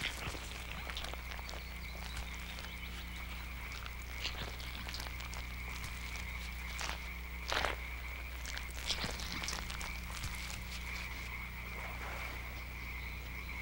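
Toads croaking through a spring mating season chorus, a steady dense backdrop of calls with a few louder near croaks standing out, a low continuous hum underneath and no talking.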